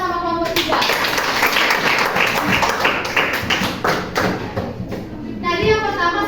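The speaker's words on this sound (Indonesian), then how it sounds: "Beri tepuk tangan sama kelompok 3." A classroom bursts into applause for a student group during a teaching session, dense clapping for several seconds, with children's voices chattering before and after.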